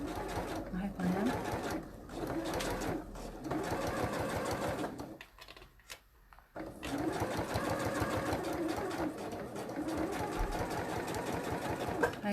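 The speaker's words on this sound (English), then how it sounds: "So I'm stitching right on the edge of the fold all the way up." A sewing machine stitching along the edge of a fabric fold, running in steady rapid bursts with a short pause midway, close and prominent while someone talks over it.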